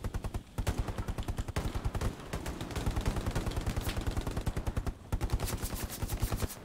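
Dense, continuous gunfire in the WWII shooter Hell Let Loose at Sainte-Mère-Église: rapid automatic bursts and single shots crack one after another, loud and close, with a brief lull near the start and another around the five-second mark.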